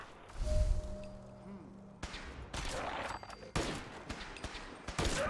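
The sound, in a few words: gunshots in the video game Fallout 4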